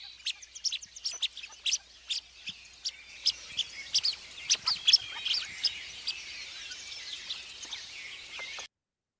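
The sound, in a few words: blue-winged teal soft pip calls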